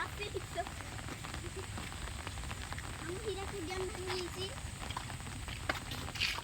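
Heavy monsoon rain pours steadily near Hadgarh dam, a dense, continuous hiss of water on surfaces with voices speaking over it.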